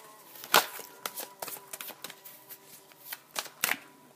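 Oracle cards being shuffled during a mirror-oracle reading: a soft, close series of riffling flicks and slaps in irregular bursts, fairly quiet, with a faint steady tone underneath and no talking.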